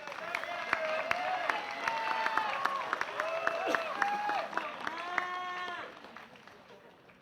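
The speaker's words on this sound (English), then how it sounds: "One more round of applause for these educators" A graduation crowd at the Army and Navy Academy's 2019 ceremony gives educators a round of applause, with clapping under loud whoops, cheers and voices that swell and then fade away.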